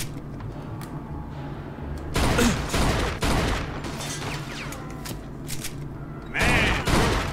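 Gunfire in the video game Mafia II: several loud bursts of shots and booms, close and sharp, separated by quieter stretches of game ambience, with no talking over them.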